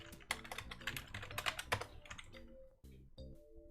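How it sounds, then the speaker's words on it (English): Fingers type on a computer keyboard in rapid, uneven bursts of close clicky keystrokes, then slow to a few separate taps, with no talking. "Let me just type something."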